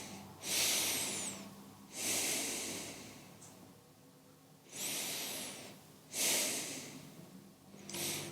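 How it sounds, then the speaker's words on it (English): Loud, close breathing during a hip mobility stretch, five long airy breaths, strong exhales with slower inhales in a steady rhythm separated by short quiet gaps. "Take a few breaths."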